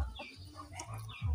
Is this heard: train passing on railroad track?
no